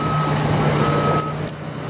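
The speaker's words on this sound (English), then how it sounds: "Garbage trucks are trying to get down the street." A garbage truck reversing on a street at a construction site, its backup alarm sounding steady loud beeps over engine rumble.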